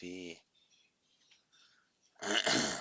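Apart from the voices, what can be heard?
dog sneezing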